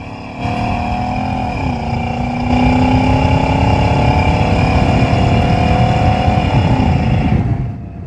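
A 1984 Chevrolet Monte Carlo SS with a 305 HO V8 and swapped carburetor pulls hard after a downshift into second, its engine note loud and steady, dipping briefly at each shift before climbing again, heard from inside the car without talk.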